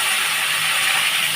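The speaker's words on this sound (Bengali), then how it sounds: "ডিমগুলো ভাজা বসিয়ে দিল।" Eggs frying in a little oil in a pan for a Bengali steamed egg dish, giving a steady, close sizzling hiss that runs unbroken with no talk.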